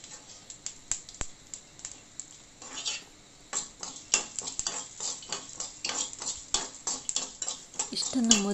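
Cumin, garlic, mustard and fenugreek seeds fried in a pan, stirred with a metal spoon that scrapes and clicks against the pan in quick, irregular strokes over a light frying sizzle, close and fairly loud.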